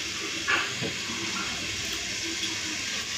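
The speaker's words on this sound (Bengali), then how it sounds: "শাকগুলো বেছে আবার ভালো করে ধুতে হবে জল দিয়ে" Water splashes and runs at a kitchen sink as locally grown spinach leaves are rinsed, a steady running-water wash with a brief louder splash near the start.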